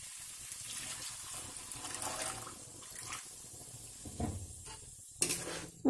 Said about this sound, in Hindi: ऐसे फिर हिला करके हम इसमें पानी डाल देंगे।